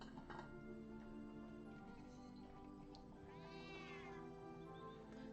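A cat meows once in the video game Patchwork & Cottage Garden, a soft drawn-out call rising and falling over quiet, steady background music.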